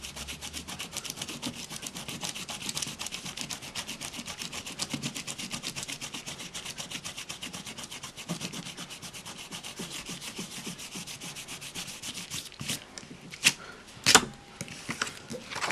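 Dried masking fluid rubbed off paper by hand, a steady rapid rasping friction heard close and alone, ending in a few louder scuffs.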